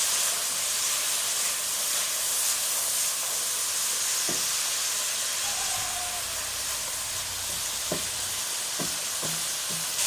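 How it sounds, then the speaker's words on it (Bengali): Spice paste sautéing in oil for a cauliflower and egg curry, a constant loud sizzle and hiss with a few sharp clicks of the spoon against the pan near the end. "নেড়ে চেড়ে খুব ভালোভাবে ভুনা করে নেব যতক্ষণ না উপরে তেল ভেসে উঠবে"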